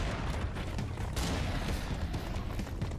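Rapid gunfire from the shooter game Serious Sam 4, a dense and continuous barrage of shots and booms that stays loud and close for the whole stretch, with no voice over it.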